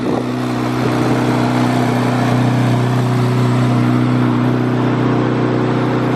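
A Corvette C8 Z06 engine runs loud and close, a steady, even rumble with a humming drone that holds without change for several seconds, no voices over it.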